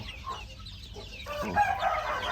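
Chickens and roosters cluck in a pen, with scattered clucks and short calls over steady farmyard background noise, fairly near.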